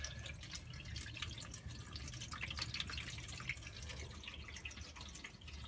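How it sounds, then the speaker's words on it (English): Water is poured from a container into the drum of a Maytag MHW3505FWH front load washer, a faint, continuous splashing and trickling that stays quiet and close, with no talking. "So now I'm pouring this water in the drum."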